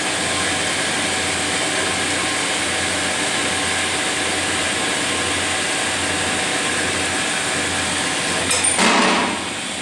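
Horizontal bandsaw cutting with a steady, loud mechanical drone, then a short louder rasping burst near the end as the cut finishes.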